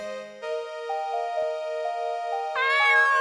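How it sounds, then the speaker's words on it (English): A cat meowing in the video game Murder is Game Over: long, tonal, stretched meows held steady over a sustained musical backdrop, with no talking. "I don't think the cat likes Cleo."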